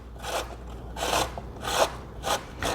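Cucumber being grated slowly on a box grater, a steady series of rasping strokes, each about half a second long, close and clear with no talking.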